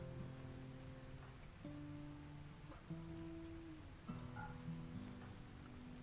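Rain in the video game RimWorld hisses steadily and faintly beneath sustained musical tones, with no voices over it.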